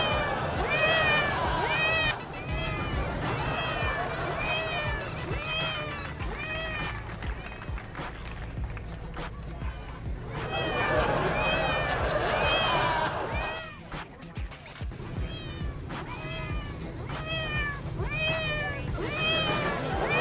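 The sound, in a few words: recorded cat meowing played from a laptop in a cardboard box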